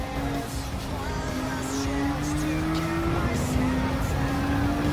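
Gr.4 race car in Gran Turismo 7 at Dragon Trail Seaside accelerating through the gears, its engine note climbing in steady rising pitch sweeps, loud and continuous, with brief shifts between pulls.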